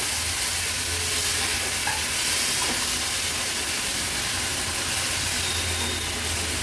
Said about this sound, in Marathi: आता चिरून घेतलेली ही मेथीची बारीक भाजी आपण ऍड करणार आहोत व्यवस्थित परतून घ्यायची आहे कांद्यासोबत